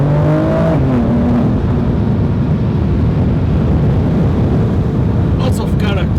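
BMW M4 Competition engine running loud and steady, a low broadband roar with a brief higher tonal rise early on, under light background sound.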